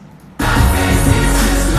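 A song playing from iTunes during a livestream, the final chorus kicking in abruptly at full loudness with dense layered music after a quiet lead-in.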